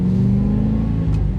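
A Porsche 944 with an LS swap V8 engine rumbles close by, holding a steady, loud idle with a slight dip in revs near the end.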